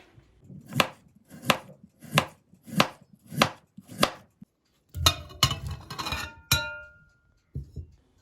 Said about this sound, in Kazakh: Картошкаларды жұқалап турап аламыз.